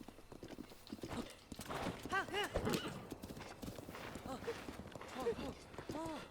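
A horse in Zelda Breath of the Wild clip-clops along at a steady gait, with several neighs and whinnies rising over the hoofbeats, fairly close and clear throughout.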